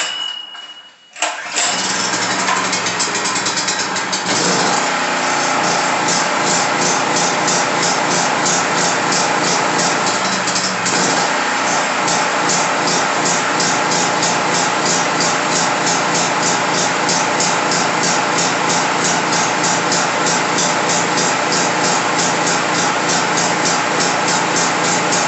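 A Predator 4000-watt generator starts up and runs steadily at close range, its engine drone loud and continuous with a slight rise and fall in pitch as it surges.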